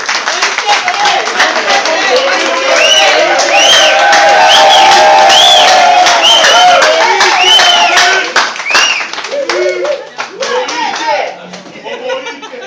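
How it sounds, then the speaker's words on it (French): An audience at a reception honouring a Brussels mayor applauds Philippe, loud sustained clapping with a few cheers that tails off into scattered claps near the end, voices mixed in. "je demanderai d'applaudir aussi Philippe"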